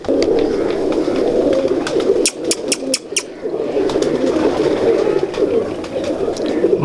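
Pigeons kept by a fancier coo in a dense, steady chorus nearby, with a few wing flaps and other noises partway through.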